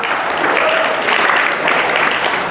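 An audience of young people claps together at a motivational talk, a dense, steady wash of applause that runs unbroken and fairly loud throughout.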